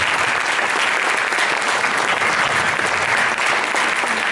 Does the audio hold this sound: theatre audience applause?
yes